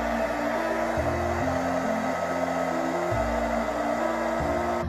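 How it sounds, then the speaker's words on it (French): A hair dryer blows continuously to dry a homemade DIY craft project, a steady loud whirring drone with a shifting low motor hum, running alone without pause. "je vous conseille le sèche-cheveux."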